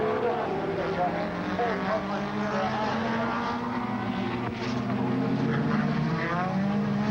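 Touring cars from the 1989 Australian Touring Car Championship round at Symmons Plains run beneath the Dunlop Bridge toward the hairpin, a steady engine drone with shifting pitch that rises and fades as cars pass, under continuous commentary.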